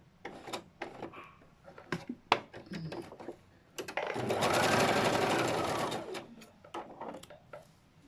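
A sewing machine stitching round the neckline of a garment in a tailoring class, with a few seconds of steady, fast whirring after scattered clicks and handling noises.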